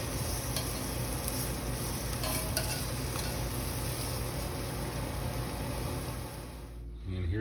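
Shrimp for tacos fry in a pan with a steady, dense sizzle that holds evenly throughout, dropping slightly just before the end.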